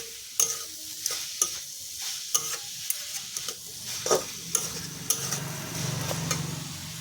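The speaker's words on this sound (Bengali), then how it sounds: "এখন আমি এটাকে ভালো করে নেড়েচেড়ে ঢেকে দেবো।" A spoon scrapes and clacks against a pan while stirring papaya curry with salt and turmeric powder, sharp irregular knocks over a low, quiet sizzle, with no talking.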